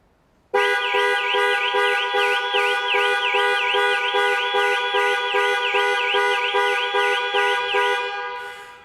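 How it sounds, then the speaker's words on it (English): A Jaguar XE (21MY) panic alarm blares through the car's horn in a loud, continuous warbling tone that pulses rhythmically for about eight seconds before starting to fade. "The final button is a panic alarm."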